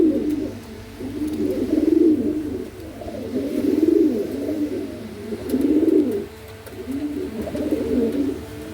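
A pair of pigeons coo close by in repeated low, throaty rolling phrases, rising and falling every couple of seconds over a faint steady hum, with no talking.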